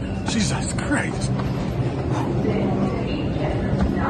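Steady rumbling clatter of a New York subway train running throughout, with a person speaking briefly over the noise.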